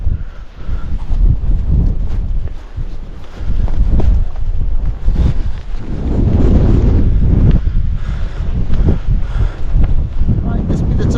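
Strong, gusty wind roars and buffets the microphone without letup on the summit of Knott Rigg, a fell in the Newlands area, loud and close.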